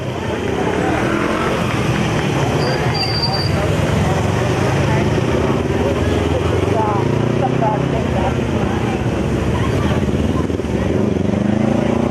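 Motorcycles of a cycle unit riding in a dairy festival parade give a continuous loud engine rumble with rising and falling revs as they pass close by. A voice talks over the engines.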